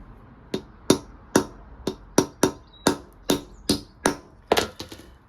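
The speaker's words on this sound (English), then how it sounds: "put the 13 bolt under there, on the block of iron, centre pop it" A hammer strikes a centre punch on a 13 bolt resting on a block of iron during a Honda CB400 Four motorcycle restoration, giving about a dozen sharp, ringing metallic taps at a steady, slightly uneven rhythm, close and alone.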